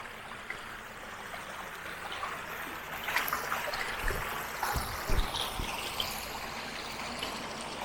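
Water flows steadily and softly, a continuous trickling stream with a few brief splashes or knocks in the middle, fairly quiet and without speech.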